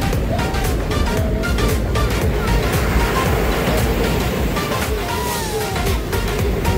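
Steady broadband roar of surf at Candolim Beach in Goa, continuous and fairly loud throughout, with a faint undertone of traffic and some distant voices mixed in.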